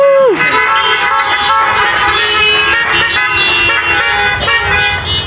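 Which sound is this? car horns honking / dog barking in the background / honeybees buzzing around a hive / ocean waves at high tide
car horns honking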